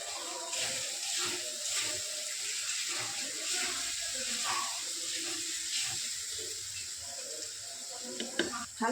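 Water trickles and splashes into a pan of spiced gravy with ground chilli, ginger powder and salt, a steady running pour lasting several seconds and ending with a few sharp clinks.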